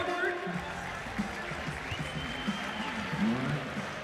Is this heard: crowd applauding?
yes